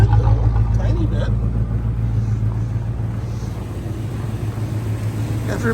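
A 1985 Chevy Suburban C20 engine running at a slightly high idle gives a steady, loud low rumble with no break, heard up close and alone.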